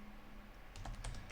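A computer keyboard is typed on while a terminal command is entered, with a short run of soft, close key clicks arriving in the last half second after a quiet lead-in.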